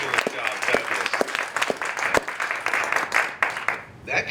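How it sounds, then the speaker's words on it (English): Audience applause at a quarterly business meeting, steady broadband clapping sustained across the stretch with occasional sharper individual claps standing out, fading briefly near the end before swelling again. "let's give one more big round of applause for Julian and Jack"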